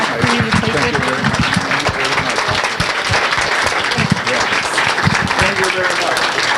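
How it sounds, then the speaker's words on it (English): A room full of people clapping at an annual meeting award presentation for the Northern Dutchess Alliance, a sustained, dense round of applause with a few sharper individual claps standing out. "I think this round of applause goes for Gloria as well."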